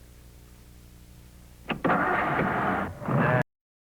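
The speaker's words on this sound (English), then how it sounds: "That's what 225 horsepower sounds like." A 1955 Ford Thunderbird's 225-horsepower V8 turns over and catches, then runs loud and steady close by for under two seconds, dips briefly, surges again and cuts off abruptly.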